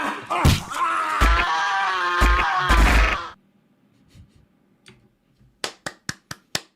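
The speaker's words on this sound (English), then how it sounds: "Let's a round of applause for Lafleur." A handful of sharp, isolated hand claps from what sounds like a single person, spaced about a beat apart near the end, follow a stretch of loud voiced sound and then a brief quiet pause.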